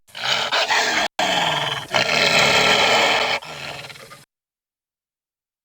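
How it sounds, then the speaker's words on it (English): Large gray wolf in the 1994 Lassie interactive moviebook game, giving loud, close, rough growls and snarls in a few sustained bursts with a brief break, then cutting to silence. "The wolf growled and snarled"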